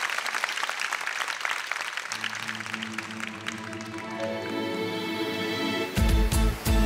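Audience clapping fills a concert hall during a family-themed economy concert, a dense steady patter lasting several seconds before music with a low tonal backing begins underneath and swells at the end.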